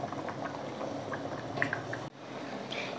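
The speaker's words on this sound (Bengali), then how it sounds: "এবার রসের সঙ্গে ঢাকনা দিয়ে বড়াগুলোকে 5 মিনিট ফুটিয়ে নেব" Jackfruit seed fritters simmer in gravy under a lid, producing a soft, steady bubbling with occasional faint pops that cut off abruptly.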